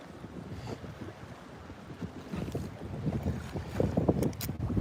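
Wind gusting over open water around a bass fishing boat in hurricane weather, a steady broadband rush that builds louder toward the end with splashy water movement underneath.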